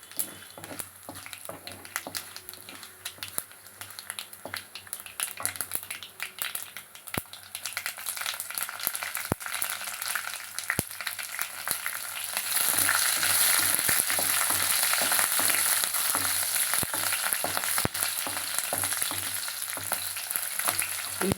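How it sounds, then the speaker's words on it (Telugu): Sliced onions and green chillies fry in a hot oil tempering for an okra and tomato fry, a steady sizzle with sharp spoon clicks that swells noticeably louder and brighter partway through. "తాలింపులు మగ్గిపోయాక కోసుకున్న ఉల్లిపాయ, పచ్చిమిరపకాయలు,"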